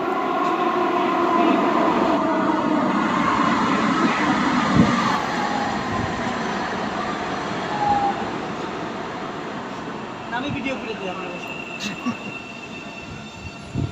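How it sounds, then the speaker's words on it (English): An Ottawa metro rail train pulls into the station with a steady close rumble, wheels faintly squealing as it rolls in and slows. "Train is coming."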